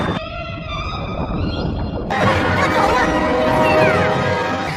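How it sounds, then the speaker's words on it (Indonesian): Whale calls played underwater in the film The Meg: long, echoing, tonal moans with rising and falling pitch, then a louder, busier wash of sound that swells over the rest. "Sementara itu, Jax menurunkan gelombang suara paus dari kejauhan"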